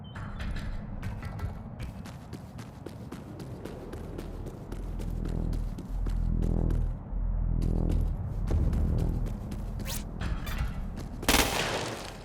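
Gunfire in the Crackdown 2 Xbox 360 game, a string of sharp repeated shots with clattering mechanical sounds and a few heavier bursts, close and fairly loud, with no talking.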